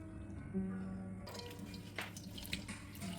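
Juice from a ground ginger, garlic and onion paste being strained: quiet trickling and dripping liquid that starts after a brief pause and continues softly to the end.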